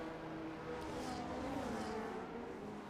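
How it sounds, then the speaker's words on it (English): Loud motorbikes pass outside, their engines droning and rising in pitch as a continuous background roar. "As you can hear, there's a lot of motorbikes, and they like being loud."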